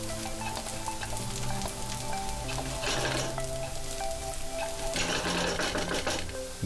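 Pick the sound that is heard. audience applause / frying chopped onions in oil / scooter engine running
frying chopped onions in oil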